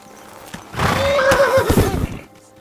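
A horse in Kingdom Come: Deliverance II neighs loudly with a long, wavering whinny, hooves clopping beneath it, then the sound fades out.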